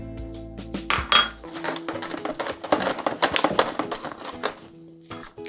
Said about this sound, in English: So the first thing I'm going to do is give this a good mix.